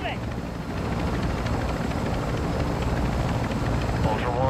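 A heavy helicopter in the Call of Duty DMZ video game drones steadily with a continuous rotor rumble, loud throughout, with voices talking over it.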